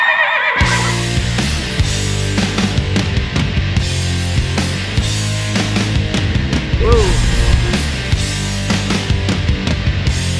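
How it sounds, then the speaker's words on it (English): Horses whinny along a roadside, passed while driving, under steady loud road and engine noise, with a brief high neigh partway through. "Ooh, horses."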